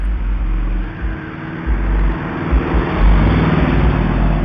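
A souped-up car with a loud exhaust gives off a steady low rumble that swells slightly, heard from a distance on a residential street without any voices.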